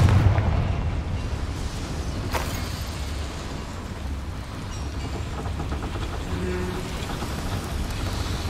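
A Confringo fire spell in Hogwarts Legacy bursts with a deep, loud blast at the start, followed by a steady crackling, rushing roar and another sharp hit a couple of seconds in.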